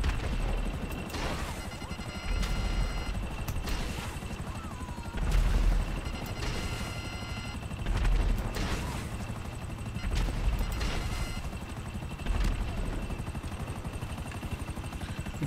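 Gunfire in GTA 5 Online during a mission around a helicopter, heard as repeated bursts of shots over a steady engine and rotor drone, with louder volleys recurring every couple of seconds and a brief voice.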